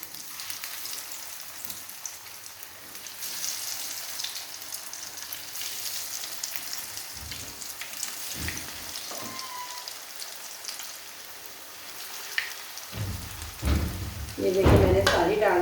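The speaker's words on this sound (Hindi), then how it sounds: "तो अब फ्राई करना स्टार्ट करते हैं। ऑयल गर्म हो चुका है" Chicken and mixed vegetable cutlets fry in hot oil over low heat, a soft continuous rain-like crackle close by with a few clunks of handling and a louder burst of sizzling near the end.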